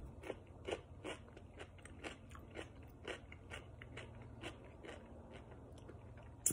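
Thin Natural Harvest zesty hot pickle chips being eaten: sharp, close crunches at a steady chewing rhythm, each bite crackling briefly, with no talking.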